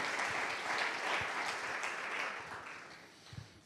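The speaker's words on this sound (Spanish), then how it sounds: "Dale un fuerte aplauso a Él en esta noche" Church congregation applauding during a worship service, a dense, steady wash of clapping that fades slightly toward the end, with no voices over it.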